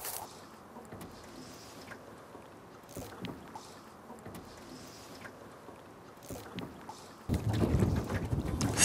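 Strong wind blows across Corbett Lake in British Columbia during September fly fishing, a steady roar buffeting the microphone throughout, with a louder gust surging in at the end; no talk.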